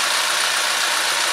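A Chevrolet Ecotec GDI gasoline direct-injection engine idles with a steady, even, close-up hum and hiss that holds throughout without rising.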